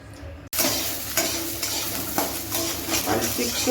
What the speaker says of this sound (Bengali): এখন আমি অল্প একটু সরষের তেল দিব সোয়াবিনটা ভাজা করার জন্য